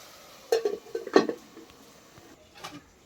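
A metal lid lifted off a cooking pot of fish curry clinks twice in quick succession, sharp and close, followed by a faint softer tap, against a quiet kitchen background.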